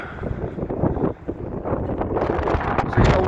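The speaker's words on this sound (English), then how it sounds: "It's windy" Gusty wind buffets the microphone on a street walk along Foxhall Road in central Blackpool, a steady broadband rumble that swells louder toward the end, with no voices over it.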